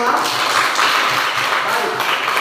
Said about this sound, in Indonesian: tepuk tangan sekali lagi untuk kita semua